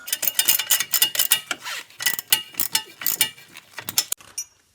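A hand ratchet clicks in quick, loud bursts of rapid pawl ticks, starting and stopping repeatedly while tightening front strut bolts on a Ford Mustang, with no talking.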